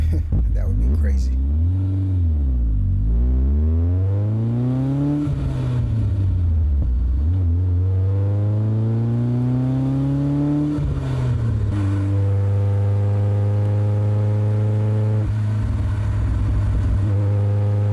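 BMW E30 M3 sports car engine revving loudly and close, its pitch rising and falling through several long pulls with a steady rumble between, while people talk over it.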